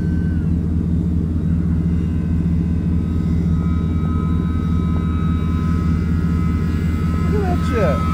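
A scratch-built 60-inch RC snow plane flies overhead with a steady, droning motor whine under constant wind rumble, while people talk nearby.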